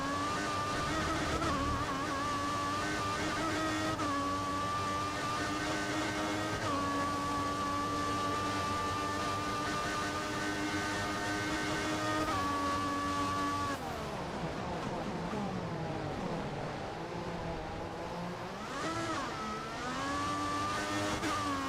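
A Williams Formula 1 car in the F1 2014 racing game, its high-pitched engine whine holding steady and shifting through gears, then dropping and warbling as it passes close by.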